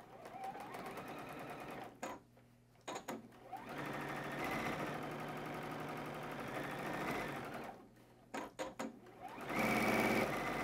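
A sewing machine stitches fabric strips in long, fast, even runs of mechanical chatter, broken by short pauses where the needle stops and the fabric is turned, close and steady.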